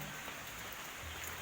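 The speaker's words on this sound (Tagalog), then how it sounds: "Nag-uulan pa din." Rain falls steadily in a dense, even hiss with soft pattering, faint and continuous, with no voices.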